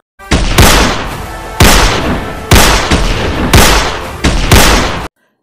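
A handgun fired left-handed at a target board: five loud, sharp shots about a second apart, each with a ringing decay and no voices in between.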